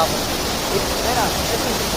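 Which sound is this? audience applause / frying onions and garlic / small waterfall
small waterfall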